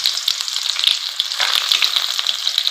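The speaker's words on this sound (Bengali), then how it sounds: "তেলটা গরম হয়ে গেছে, তেলে দিয়ে দেব গোটা জিরে, তেজপাতা, পেঁয়াজ কুচি।" Whole cumin, bay leaves and chopped onion hit hot oil in a kadai. A loud, bright, crackling sizzle holds steady, with popping spits and no voices.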